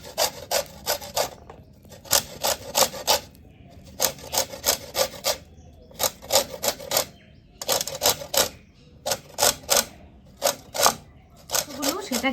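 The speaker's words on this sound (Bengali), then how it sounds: "দেখো ঠিক এইরকম সবুজ অংশটাকে আমি আস্তে আস্তে ঘষে ঘষে তুলে নেব।" Green zest is grated off a gondhoraj lime in quick bursts of dry rasping strokes, each run of rubs separated by brief pauses, close and crisp.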